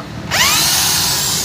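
A Makita M8100 hammer drill spins up sharply and then drills into wood with a loud, steady, high-pitched whine that holds close and even to the end, with no talking.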